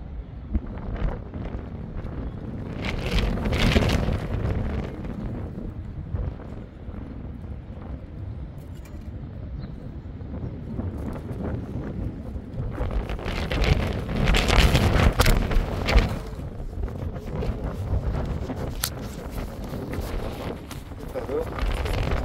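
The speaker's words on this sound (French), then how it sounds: "Il y a du vent" Wind buffets the microphone in a steady roar while fishing at Martigues, swelling into stronger gusts, with someone talking throughout.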